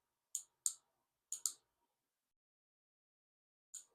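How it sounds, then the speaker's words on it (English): An archery bow clicker snapping sharply in isolation: two pairs of crisp clicks close together, then a single click after a pause, close and quiet against silence. "it's audible, so you can hear it click"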